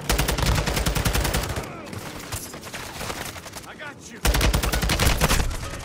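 Rapid automatic gunfire in a video game pours at the player in dense bursts, thins out briefly, then returns at full loudness, loud and close throughout.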